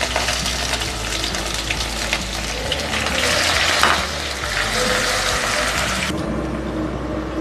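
Onions sizzle in hot oil with black cardamom, bay leaf, cloves and cumin for a dal tadka, a steady crackling fry with a few stirring clinks, cut off abruptly near the end.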